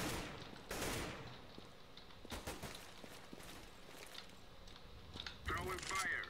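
Gunfire from the video game CS:GO, with scattered bursts and single shots over in-game footsteps and background noise, fairly faint and far off, with a louder burst near the end.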